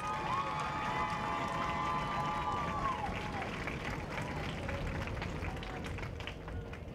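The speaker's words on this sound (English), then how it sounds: "a round of applause" A crowd at a high school celebration applauds a chef, steady clapping mixed with murmuring voices and a few sustained tonal calls early on, continuing evenly throughout.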